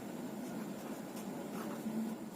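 Handwriting of fractions during a maths lesson, a soft continuous scratching of pen or marker across a surface, steady and faint with a low room hum underneath and no talking.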